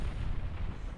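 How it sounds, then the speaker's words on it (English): A stock explosion sound effect from a game plays as a dense, loud, low roaring rumble that stays at full strength throughout, with no talking. "I guess it's just a stock explosion sound"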